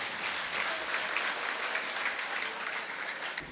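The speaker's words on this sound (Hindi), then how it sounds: "तालियां बजती रहनी चाहिए इन बच्चों के लिए" Sustained, dense applause from an audience at an Arya Samaj gathering in Model Town, Ludhiana, honouring a group of children. The clapping stays steady and close throughout, fading slightly at the end, with no talking over it.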